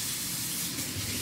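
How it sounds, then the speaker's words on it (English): Water running from a kitchen tap in a steady loud hissing spray, continuous and close. "This you can hear is the water."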